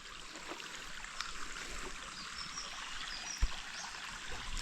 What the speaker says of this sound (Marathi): ओढा वाहत आहे